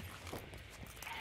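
A horse in Hunt: Showdown makes a faint, brief sound: quiet hoof clip-clops and horse noises lasting just over a second, low in level.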